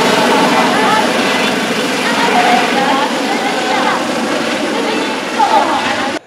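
A rescue helicopter hovers overhead during an earthquake drill, its steady loud rotor and engine roar running continuously, with crowd voices and talk mixed underneath.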